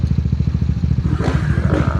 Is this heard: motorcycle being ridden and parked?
yes